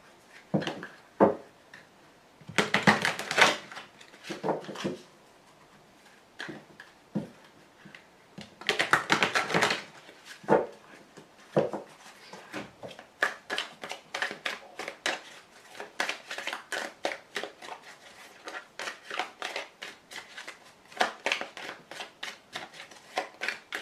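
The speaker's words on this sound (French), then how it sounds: "je vais tout de suite tirer la carte de l'oracle bleu supplémentaire" Oracle cards are shuffled and handled in a quiet room, with repeated crisp riffling bursts and sharper flicks and taps as cards are drawn, close and irregular throughout.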